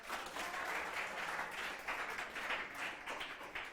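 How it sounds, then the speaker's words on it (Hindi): A class of students claps together in steady, dense applause for a few seconds in a classroom, with no talking over it. "चलो बजा लो अपने लिए ताली एक बार।"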